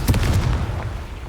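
A Confringo spell blast in the Hogwarts Legacy video game, a sudden loud booming burst with a deep rumbling body that decays quickly over about a second.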